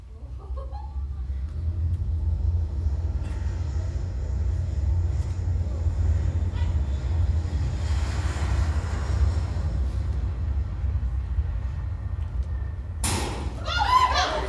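A simulated airplane takeoff played during a school faculty skit: a loud, steady low rumble holds for the whole stretch, with a louder burst near the end, under a busy room of voices.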